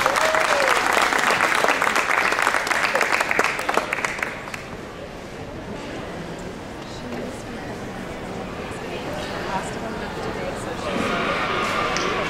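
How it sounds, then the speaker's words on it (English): An audience claps for a school honors choir at a Dickens festival, loud dense applause that eases after about four seconds and continues more softly, then swells again near the end, with some crowd chatter mixed in. "Let's give them a round of applause."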